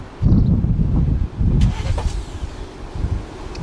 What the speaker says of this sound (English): the engine sounded like kind of like a gas engine one